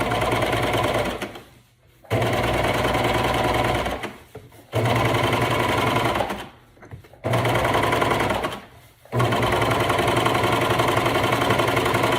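A sewing machine runs in four steady bursts of rapid stitching, each separated by a short pause, loud and close, topstitching flare leggings.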